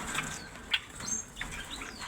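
Wings flap in a short flurry with a few faint chirps, as birds are handled in a cage at a bird seller's stall; a brief louder wing burst stands out near the middle over steady background rustle.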